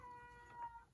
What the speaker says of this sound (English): He's just over there just